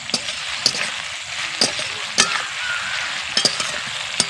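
Onions softening in a pan with a little salt: a loud, steady sizzle up close, punctuated by the sharp clicks and scrapes of a spatula stirring at irregular intervals.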